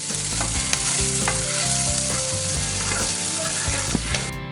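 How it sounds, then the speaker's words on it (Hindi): Vegetables stir-fry with garlic in a pan, a loud close sizzle with scraping and clinking of a spatula stirring throughout, no voices. "यहाँ वेजिटेबल को डालने के बाद अच्छे से मिक्स करेंगे और हल्का सा सॉफ्ट होने तक, नरम होने तक वेजिटेबल को फ्राई कर लेंगे।"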